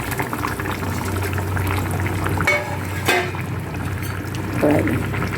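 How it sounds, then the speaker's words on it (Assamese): Fried fish pieces drop into a pot of bubbling potato, pea and capsicum curry, giving a steady low simmer with a few soft plops and splashes as they go in, no voices. "এতিয়া মই ইয়াতে ভাজি থোৱা মাছখিনি দি দিম।"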